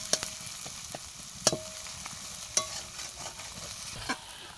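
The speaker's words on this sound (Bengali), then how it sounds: "এবার পেঁয়াজটাকে ভালো করে ভেজে নিচ্ছি।" Chopped onions fry in a pan for a village-style country chicken curry, a faint soft sizzle broken by several sharp clinks of a utensil stirring.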